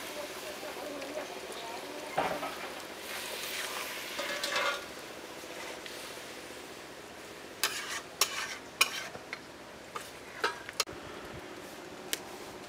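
Water poured into chicken frying in a spice masala, with a loud sizzle and stirring early on, then sharp clinks of a utensil against the pan; a voice speaks over parts of it.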